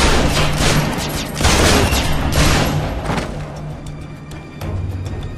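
Dense, loud gunfire and booming blasts from a firefight in the stealth action game Splinter Cell: Conviction roll on without pause, with repeated bursts swelling and easing.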